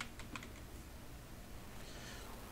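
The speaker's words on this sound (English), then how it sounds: "For this, you have to go on the startup menu and just type PowerShell." Quiet typing on a computer keyboard, a quick run of soft clicking keystrokes at the start, then fainter tapping over low background hum, with no one talking.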